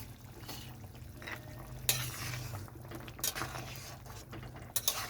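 Tilapia fish curry with potatoes and beans simmers in a pot after lentil dumplings are dropped in, a steady low bubbling broken by a few sharp clinks of a utensil against the pan, with no talking.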